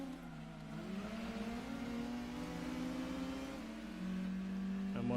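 A Mugen-tuned Honda CRX races in Gran Turismo 2, its engine whining steadily as revs climb through a gear, then briefly dipping and rising again on a shift.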